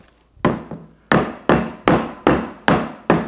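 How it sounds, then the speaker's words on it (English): Blender jar tapped down on a counter to knock sauce off the blade: about seven sharp, hollow knocks at a steady pace, close and distinct, with no talking. "Just tap it down so that sauce gets off the blade there."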